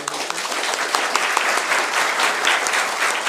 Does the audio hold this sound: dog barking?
no